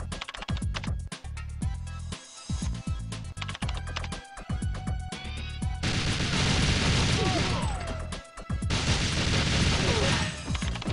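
Enemy guns in the N64 shooter GoldenEye rattle in rapid, loud volleys of repeated shots. Dense sustained bursts in the second half are followed by further chattering fire, and the whole stretch plays out with no talking.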